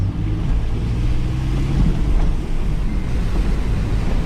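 A car pushes through churning Hurricane Ian storm-surge floodwater carrying debris, with a steady loud roar of rushing water and wind buffeting the microphone throughout.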